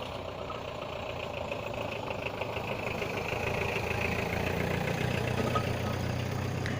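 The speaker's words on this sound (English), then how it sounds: "there is a vehicle passing by" A vehicle rolls past at night, its steady engine rumble and road noise building gradually and continuously across the whole stretch, moderately loud with no talk over it.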